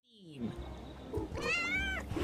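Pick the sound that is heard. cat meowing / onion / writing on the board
cat meowing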